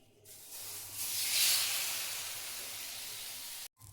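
A little oil hitting a hot tava while onion-coriander dhapate are being made, a sharp hiss that swells quickly, peaks and then slowly fades before cutting off abruptly near the end.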